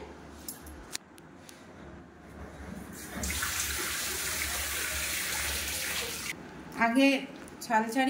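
Fresh hilsa fish being lightly rinsed under running water in a kitchen, a steady splashing stream in the middle of the clip followed by a few clinks and handling sounds, with a voice speaking nearby.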